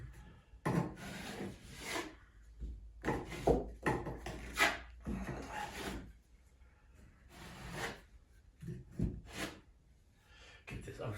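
Scraping and sanding strokes on a wooden bathroom vanity, taking off a first coat of finish, come as repeated rasping rubs in uneven bursts at close range, with brief pauses between them.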